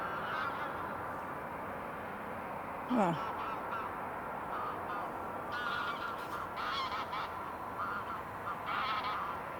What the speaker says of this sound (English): Who's louder, the geese or the planes?